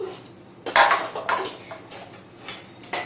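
Metal woks (kadhai) clank and scrape as they are picked up and set down, several sharp knocks and rattles over about three seconds, close by.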